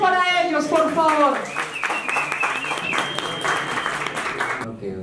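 Applause for a norteño band at a press event in Bogotá. A voice speaks at first, then steady clapping rolls on until it stops abruptly near the end.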